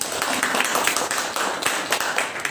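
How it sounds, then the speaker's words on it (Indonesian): University students gathered at a campus event clap together in a sustained, fairly even round of applause, with sharp individual claps standing out close by. "Tepuk tangan dulu dong untuk kita semua."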